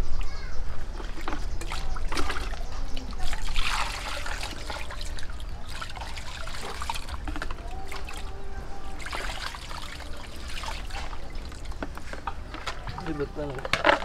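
Tap water runs steadily while shrimp are rinsed before outdoor grilling of seafood, a continuous trickle and splash close by, with voices talking over it.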